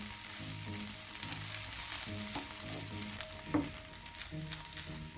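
Onion is stirred into a vegetable filling for wheat-flour samosas frying in a pan, with continuous close sizzling and repeated scraping stirs of the spoon against the pan, and no voices.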